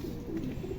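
A flying pigeon coos softly and continuously at close range against a dense low background hum.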